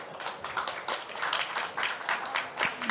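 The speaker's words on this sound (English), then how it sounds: "Please give the panelists a round of applause." An audience applauds conference panelists at a session on distributed renewable energy systems, with dense, steady clapping from many hands filling the room for about three seconds without any speech.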